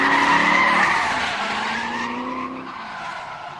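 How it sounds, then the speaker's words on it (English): Corvette drifting and sliding through turns at a grassroots drift competition, a loud sustained tire squeal over a roaring engine that gradually fades as the car moves away. "Seeing that Corvette work around the turns is nothing short of remarkable."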